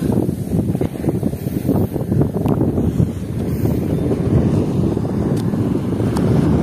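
Wind buffets the microphone over surf rolling in at Chavakkad Beach in Kerala, a loud, constant roar with gusty swells and no voices.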